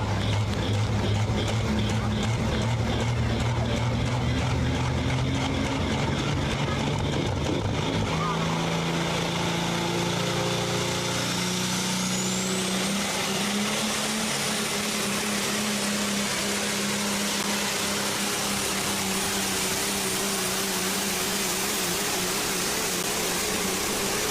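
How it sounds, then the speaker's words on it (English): A Peterbilt 389 truck pulls a sled at a truck and tractor pull, its engine roaring loud and sustained, climbing in pitch as it strains down the track while an announcer talks over it. "That is one tough truck."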